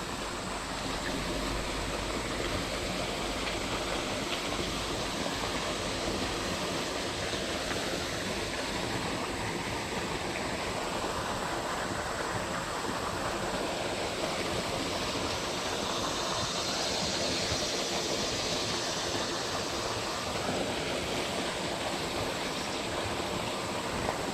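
A creek pumps out a heavy flow of water, a loud, steady rush of broadband noise that continues unbroken and fills the whole scene, with no voices.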